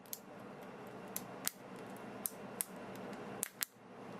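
A Marvel Legends Hyperion action figure's waist joint gives sharp, crisp ratcheting clicks close up, spaced irregularly over a faint background hiss.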